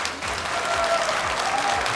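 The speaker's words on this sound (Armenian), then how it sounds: "բուրըն ծափարությունները" A theatre audience at the Got Talent Armenia gala show applauds the finalists, a loud, continuous roar of many hands clapping with cheering and music beneath.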